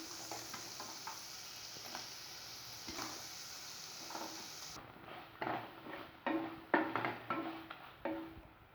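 Carrots go into hot oil for vegetable biryani, starting as a soft steady sizzle. Clinks and scraping stirring sounds then grow louder, with a few distinct knocks near the end.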